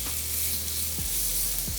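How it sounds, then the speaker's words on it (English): Chicken thighs sizzle steadily in a hot skillet, a loud continuous close-up frying hiss with no talking. "So you wanna make sure the pan is nice and hot so you can hear that good sizzle."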